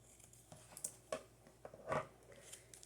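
Small snips of scissors cutting into a paper tag for a handmade mini junk journal, a few short, crisp cuts spaced apart, close and quiet.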